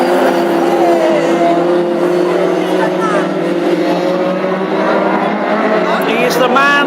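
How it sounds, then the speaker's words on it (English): Classic hot rod race cars roaring around the Ipswich oval in a 2015 heat, a steady loud engine drone with revving layers throughout, under continuous commentary. "there is your checkered flag with Steward taking his 7th race victory of 2015"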